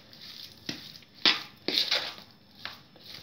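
Mashed potato being stirred with mustard oil for Bihari aloo litti, a few soft, wet squishing and scraping strokes of a spoon in a bowl, close and fairly quiet, spaced irregularly.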